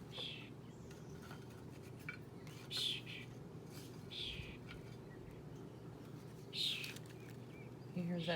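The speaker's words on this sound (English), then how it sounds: "You hear that bird? He doesn't sound happy," Bird calling outdoors near a nest, several short high chirping calls repeated at intervals over a faint low background hum, fairly distant and soft.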